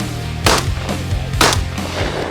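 Shotguns fired at clay targets in Amite County, three loud booming shots about half a second to a second apart, heard close with a rumbling tail after each.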